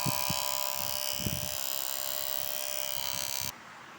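A worn Kemei electric hair clipper runs close by with a loud, constant buzz and a faintly rough drone. Low knocks sound underneath, and the motor cuts down sharply near the end.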